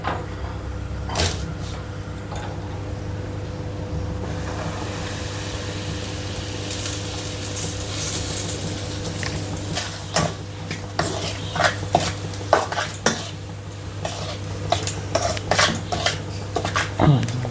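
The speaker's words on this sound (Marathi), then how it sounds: "हे आपलं तेल चांगलं तापलेलं आहे त्याच्यात टाकूया" Wheat flour samosas being slipped into hot oil, with a continuous fryer hum and bubbling under frequent clinks and knocks of utensils against a pot, plus scraping and stirring, and no voices.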